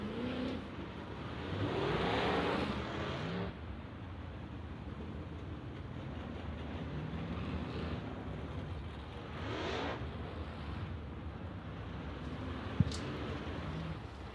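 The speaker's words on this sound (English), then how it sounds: "the Zimmerman Truck Repair Limited Late Models making their way out onto the racing surface right now" Limited Late Model dirt track race cars roll out onto the racing surface at Port Royal Speedway, a steady engine rumble with a louder swell early on and passing surges, heard from the stands at moderate distance.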